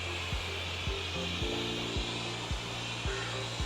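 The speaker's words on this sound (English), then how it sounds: "Let's turn on the vacuum and mopping together." A robot vacuum hums steadily in combined vacuum and mopping mode, a constant whirring drone with a faint rhythmic thump recurring about every half second, close and without talking.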